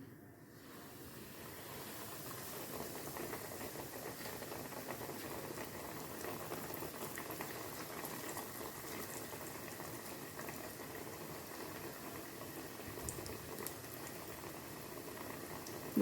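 Crumb-coated chicken fillets deep-fry in a pan of hot oil, a steady, soft bubbling hiss that holds evenly throughout without pauses or voices.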